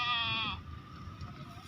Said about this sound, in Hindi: ये चौथे नंबर पे बकरा आ गया जनाब